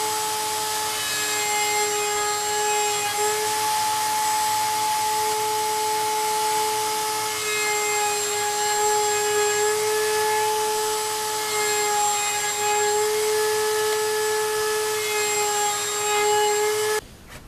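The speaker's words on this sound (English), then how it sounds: "to do that, just using the router again" A router cuts a chamfer along a wooden picture frame piece, giving a steady, close whine with a rough, grinding edge that runs continuously and stops abruptly at the end, no voices.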